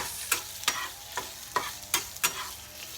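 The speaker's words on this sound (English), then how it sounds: "You hear that sizzling? It's the hot link." Steady crackling sizzle of a hot link sausage frying in a pan, broken by six sharp scraping stirs spaced roughly half a second apart, close and fairly loud.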